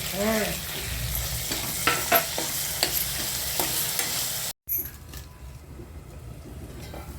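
Chopped tomatoes dropped into hot oil with onions in a home kitchen pan, a steady close sizzle with scattered clinks and scrapes of stirring, briefly cut off and resuming fainter.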